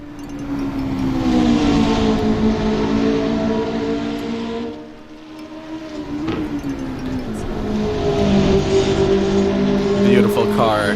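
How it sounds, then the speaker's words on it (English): A McLaren race car in a motor racing sim game sweeps past with a loud engine roar that rises, dips near the middle and builds again, while people talk over it throughout. "You hear that McLaren go past our screens."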